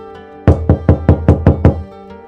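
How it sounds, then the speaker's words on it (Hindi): Knocking on a wooden house door: six firm, evenly spaced raps in quick succession, loud and close, with silence around them. "दरवाजे पर दस्तक हुई"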